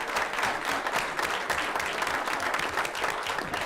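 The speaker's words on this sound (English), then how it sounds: "can I get a big round of applause" Steady applause from a crowd, dense and continuous clapping at an even level throughout, with no talking over it.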